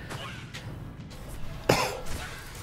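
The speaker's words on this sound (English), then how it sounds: "this cough needs to go away" A single sharp cough bursts out near the microphone during Diablo II: Resurrected gameplay, standing clearly above a low, steady background hum.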